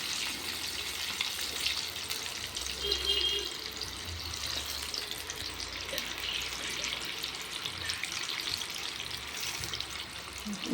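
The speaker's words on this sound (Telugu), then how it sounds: "జాగ్రత్తగా చికెన్ పీసెస్ని ఆయిల్లోకి వేసేటప్పుడు జాగ్రత్తగా వేయండి." Chicken pieces frying in hot oil for crispy KFC-style fried chicken give a steady, soft sizzle and bubbling hiss that runs throughout, faint and even with no distinct pops.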